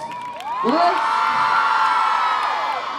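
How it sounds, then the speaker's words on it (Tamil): An audience at a stage event cheers loudly for the actress Andrea, with whoops and shouts over a steady wash of applause that holds at full strength for the whole three seconds. "நம்ம எல்லாரும் அவருக்கு ஒரு பெரிய கைத்தட்டல் கொடுத்து கண்டிப்பாக வெல்கம் பண்ணுங்க"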